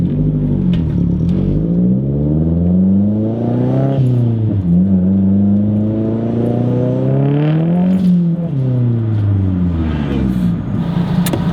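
A modified first-generation Mazdaspeed 3 exhaust revs again and again, its deep note rising and falling in repeated sweeps, loud and close with no talking.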